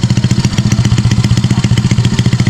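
A new Honda XRM 110 motorcycle engine runs steadily nearby, its loud, even low-pitched putter pulsing in a fast regular rhythm with light mechanical clatter on top.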